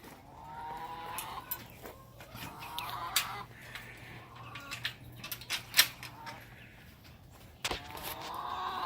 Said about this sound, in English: the chickens, they start raising heck because they say, here he comes